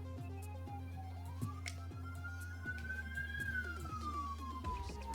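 A police siren wails in a slow rising and falling sweep, faint and distant over a steady low hum and a repeating ticking pulse, with no voices.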